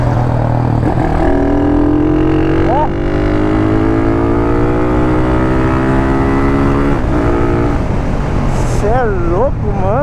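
A modified Honda CG 150 motorcycle accelerates through city streets, its engine note climbing steadily through the gears in long rising sweeps with a brief shift dip, loud and close, while the rider briefly exclaims.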